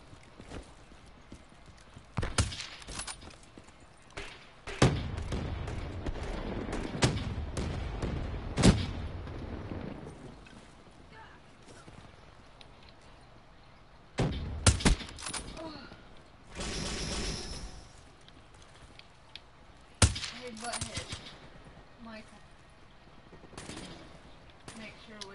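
Sniper rifle shots boom in a video game, a handful of loud, sharp reports spaced several seconds apart over busy in-game noise, with some talk mixed in.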